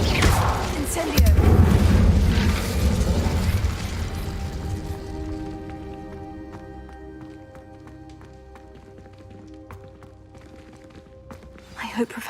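A fire spell cast in the video game Hogwarts Legacy hits with a loud, rumbling burst followed by crackling flame that fades over several seconds into quieter tonal game music, with a spoken voice heard in the mix.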